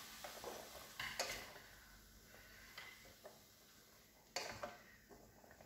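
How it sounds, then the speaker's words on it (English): A spoon stirs vegetable chilli with sweet potato and carrot in a pot, giving soft scrapes and occasional light knocks against the side, quiet and close with no talking. "a good stir round"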